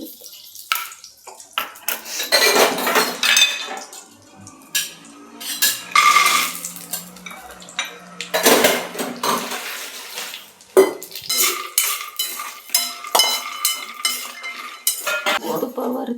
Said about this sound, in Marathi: तुपावरती बदाम भाजून घ्यायचे, गरम करून घ्यायचे